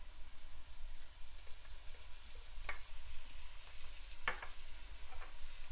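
Onions and garlic frying in a pan, a soft, steady sizzle with a couple of brief stirring scrapes breaking through the hiss.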